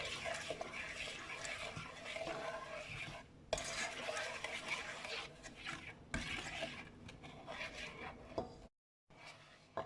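Tapioca, sugar and salt stirred together in a pot for a Thai dessert with black beans and coconut milk, a continuous close swishing and scraping of a utensil with a few brief cutoffs.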